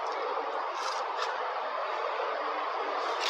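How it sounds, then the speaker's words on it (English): Chickens scratching for bugs in a farmyard with trees and an outbuilding give steady, continuous clucking and soft bird noise, with a few brighter calls standing out, heard without talk. "All the chickens playing in the yard."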